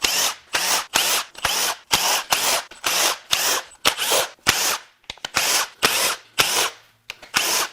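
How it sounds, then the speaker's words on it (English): A power drill or impact driver runs in about fourteen short repeated bursts, whirring loudly and close while removing valve cover bolts from a 2022 Ford F-150 with a 2.7L EcoBoost V6 engine. "Let's go ahead and get all the valve cover bolts unbolted."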